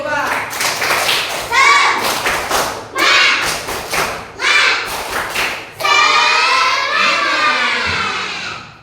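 A classroom of students in Jambi, Indonesia claps a rhythmic spirit clap in short, loud bursts, with voices chanting along between and over the claps.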